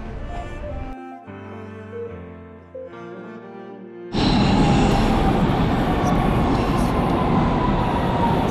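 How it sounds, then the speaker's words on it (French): A metro train in a Frankfurt station gives a tonal electric whine and a short chime-like sequence, then a sudden loud, broadband roar of the train passing close by that sustains to the end, with no clear talk. "il va même voir le métro."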